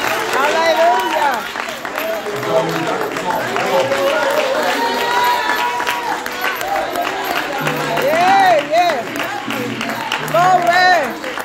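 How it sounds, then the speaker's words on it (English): A Sunday church service congregation claps and shouts praise together: steady crowd applause mixed with loud overlapping voices calling out and singing, sustained throughout. "Clap your hands and give them a shout"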